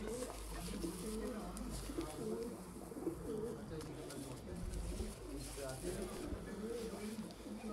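A female pigeon coos in soft, repeated low murmurs, close by, while someone talks over it throughout.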